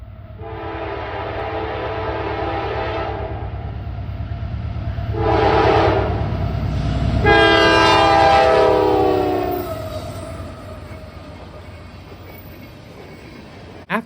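Norfolk Southern freight train with a faded CNJ heritage locomotive passing on the Cleveland Line, sounding its horn in several long blasts over a steady low engine rumble that swells as it nears and fades as it goes, with no talk.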